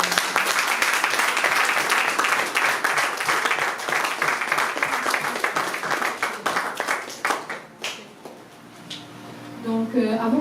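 Applause and cheering from a congregation at a youth church convention, loud and sustained with clapping and voices, fading after about eight seconds into scattered claps and murmuring.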